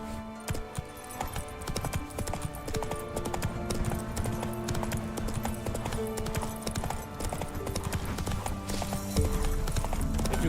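Horse hooves clip-clop steadily in The Witcher 3, a quick, even trotting rhythm of dull thuds over a constant ambient bed, with no voices heard.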